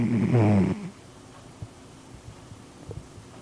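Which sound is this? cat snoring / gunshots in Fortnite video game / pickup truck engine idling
cat snoring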